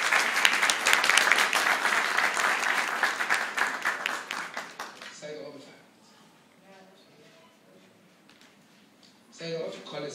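An audience claps warmly for children at a residential complex gathering, loud dense applause lasting about five seconds before fading, followed by quieter room sounds and a brief burst of clapping near the end.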